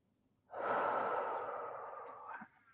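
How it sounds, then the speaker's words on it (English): A single long, audible breath during a relaxation breathing exercise, starting sharply, holding steady airy noise for about two seconds, then tailing off with a small catch, close and alone. "breathe out, breathe in, breathe out."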